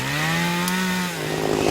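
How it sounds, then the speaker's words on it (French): A chainsaw cuts through wood at close range, its engine holding a steady, loud, buzzing whine throughout with a brief dip near the end. "Suivant l'endroit, on passe un coup de tronçonneuse dedans, on fait des tout petits morceaux"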